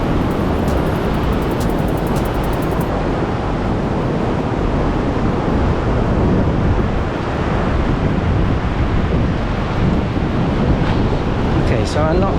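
Ocean waves rushing continuously onto Kata Beach in Phuket, a loud, dense, unbroken roar of surf with wind buffeting the microphone.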